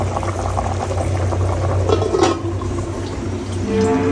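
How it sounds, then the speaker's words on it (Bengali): A pot of beef bones boils steadily at a rolling bubble, the dense gurgling churn close and continuous with a low hum beneath it throughout. "এটা হচ্ছে গুড়ুর হাড় গুরুর হাড় রান্না করতেছি"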